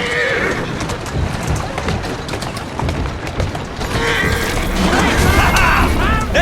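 A horse in Assassin's Creed Syndicate whinnies loudly and close, with clip-clopping hooves and busy street noise of Victorian London around it, two neighing calls at the start and toward the end.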